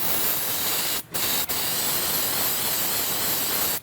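Carb cleaner sprays from an aerosol can onto a transmission part in a steady, loud hiss that runs almost the whole time, broken by two short pauses near the start.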